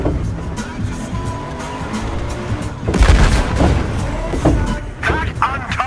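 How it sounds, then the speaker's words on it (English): Planted charges exploding in the video game Battlefield Hardline: a heavy boom bursts in amid vehicle engine noise and game ambience, followed by further thuds and crackling, with voices talking over it. "Charges are about to blow!"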